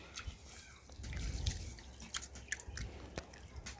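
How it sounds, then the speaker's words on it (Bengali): Basmati rice washed and squeezed by hand in water, giving soft, close squishing and wet dripping sounds in an otherwise quiet setting. "এ দেখুন একবার ধুয়ে নিয়েছি, আবারও জল দিয়ে দিচ্ছি, দিয়ে আবারও ভালোভাবে এ দেখুন হাতের সাহায্যে এভাবে চটকে দিয়ে"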